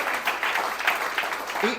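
A church congregation at a Christian sermon applauds: a diffuse wash of many hands clapping, continuous and roomy, with a voice entering at the very end.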